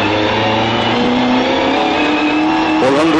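Rally car powering hard along a forest stage at the 2012 Moonraker Forest Rally, its engine loud and close, pitch rising steadily through the gears with a shift near the end.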